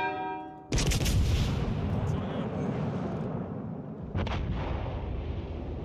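Big naval guns from a World of Warships Legends battle fire AP shells at a battleship, a heavy booming salvo that rolls on with rumbling reverberation, then a second sharp report, loud and close.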